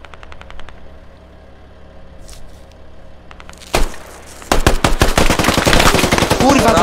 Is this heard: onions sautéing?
no